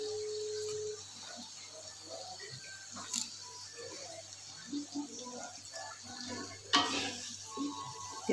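Sambal seasoned with MSG, salt and flavoring fries in a pan while being stirred, a steady close sizzle broken by occasional scraping strokes and metallic clinks.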